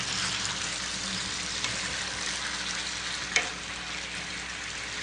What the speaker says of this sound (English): Let me check our Greek pork. I hear it sizzling.